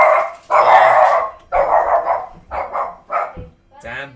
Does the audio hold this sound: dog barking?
yes